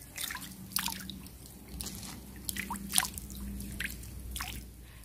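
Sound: washing wild mushrooms in water

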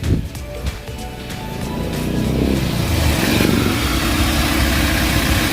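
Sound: Toyota Altis engine running after hard start

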